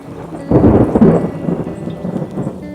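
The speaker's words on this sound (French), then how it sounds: "On vient d'avoir un orage assez violent." A loud rumble of thunder from a violent storm with hail breaks out and rolls on, booming low and heavy before slowly fading, with rain faintly in the background.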